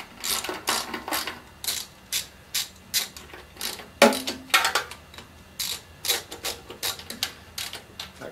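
Ratchet wrench snugging oil pan bolts on a Chevy 454 big-block engine, a series of quick close clicking bursts in irregular rhythm, moderately quiet, with a brief metallic clink partway through.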